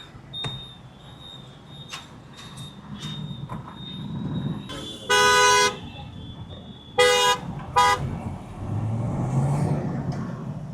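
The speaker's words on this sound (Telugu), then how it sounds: "ఎందుకు ఇంత రచ్చ హారన్లు కొడుతున్నారు?" Loud car horns blare in busy city traffic around a BMW M440i with its convertible roof, two long sustained honks standing out over a steady street rumble and shorter toots.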